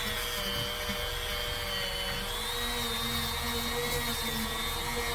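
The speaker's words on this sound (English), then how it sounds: "taking the Dremel with a little polishing bit on the end of it and" A Dremel rotary tool with a small polishing bit works over a GM carburetor, giving a steady high whine and whir with a faint rubbing texture, close and continuous.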